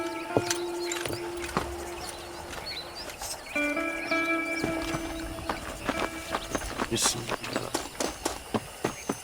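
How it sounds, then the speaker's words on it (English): Horse hooves in the video game Red Dead Redemption 2, clip-clopping at a trot that grows into a steady rhythmic patter, with game music and a brief spoken phrase alongside. "اركب الحصان"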